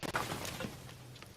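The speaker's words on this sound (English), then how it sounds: "All of a sudden, something smashes straight through the wall." Something smashes through a wall in a video game: a brief, loud crash and shatter of debris right at the start, then quickly fading rubble.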